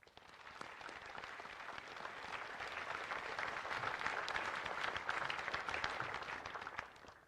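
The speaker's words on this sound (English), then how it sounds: "A round of applause for them." A crowd at the 84th anniversary Pearl Harbor commemoration ceremony in Hawaii applauds, the clapping swelling from a soft start into a broad, sustained wash before fading at the end, heard from a distance and fairly quiet.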